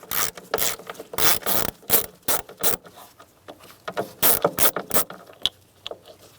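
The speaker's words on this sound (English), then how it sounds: "Using a T40 bit, remove the screw for the hood release handle." A T40 bit ratcheting out the hood release handle screw on a 1988-1999 GMC K1500, close and loud, with bursts of sharp clicking turns separated by short pauses.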